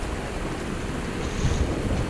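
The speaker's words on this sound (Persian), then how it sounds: "آبی خنک از زیر پای من عبور می‌کند" Cool stream water flows past a wader's feet in the Kol-Pir gorge, a steady broadband rush and wash that swells slightly near the end, close and continuous with no voices.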